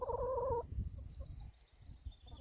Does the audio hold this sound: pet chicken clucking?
yes